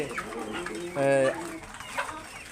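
Chickens on a poultry farm at night while feeding cluck and murmur steadily, with one clear, louder drawn-out call near the middle; someone talks over the flock.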